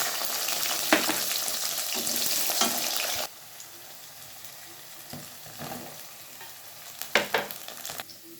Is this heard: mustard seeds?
yes